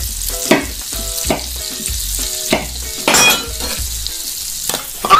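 Food frying and sizzling in a pan during home cooking for a family, a continuous loud crackle with scattered pops and a few clinks of stirring, no voices.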